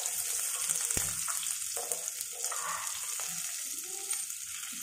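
Onions frying in a pan of oil with cumin and green chilli for a dhaba-style bhindi do pyaza, a steady close sizzle with scattered stirring clicks throughout.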